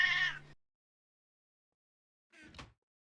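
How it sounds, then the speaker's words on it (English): A pet cat meows loudly and close to the microphone, a clear tonal cry, then after two seconds of silence a shorter, rougher second meow. "That meow that you just heard was our actual cat"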